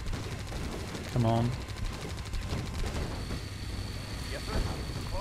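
Combat in Red Alert 2: Yuri's Revenge as mirage tanks attack head on, a steady rattle of gunfire and explosions running throughout under a spoken line, with a brief louder tonal burst near the start.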